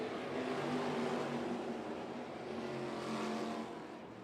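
Top Gun sprint cars roar as they race at Volusia Speedway Park dirt track, a dense, continuous engine drone from a pack of cars that fades slightly toward the end, heard alone.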